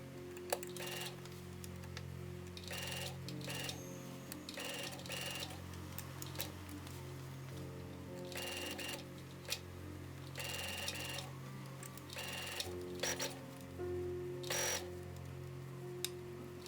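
Domestic sewing machine stitching a winter coat sleeve, a steady rapid mechanical whir in several bursts separated by short pauses, close and moderately quiet over a faint hum.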